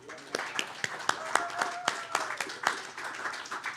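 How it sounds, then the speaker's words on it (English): Scattered hand claps ring out in a brief burst of applause, close by, with a voice speaking faintly underneath. "please give a round of applause for these two young ladies"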